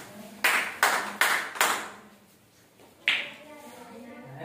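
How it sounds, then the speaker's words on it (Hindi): Children clap in a classroom for a maths counting activity, four sharp claps in a steady rhythm, a pause, then one more single clap, with quiet room noise between. "वो हमारी तालियां देखना, ठीक है?"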